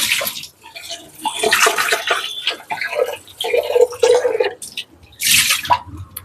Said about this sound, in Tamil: இப்போ வந்து நம்ம உள்ள மட்டும்தான் தண்ணி ஊற்றி கழுவணும்.